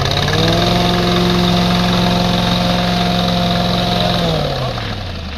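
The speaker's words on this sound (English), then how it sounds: "reach over and turn the ignition, start igniting, and also push the choke in at the same time" A Dragon 3047 truckmount engine running loud and steady at close range with a strong low drone, then winding down as its pitch drops toward the end.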